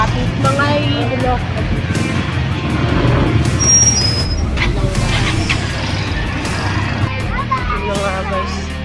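Road traffic rumbles near a market, with car engines and passing vehicles under a busy hubbub of voices and children's chatter, plus a brief high squeal like a brake.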